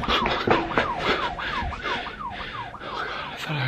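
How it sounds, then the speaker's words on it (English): A wailing emergency siren sweeps up and down repeatedly at a steady pace, fairly close and loud over traffic rumble. "I thought I heard sirens"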